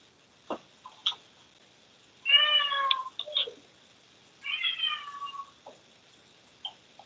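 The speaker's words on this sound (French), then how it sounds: "je vais ouvrir la porte pour le chat parce que sinon il va réveiller quelqu'un" Two clear meows come from a cat waiting at a door inside a house. A few small knocks and clicks sound around them in an otherwise quiet room.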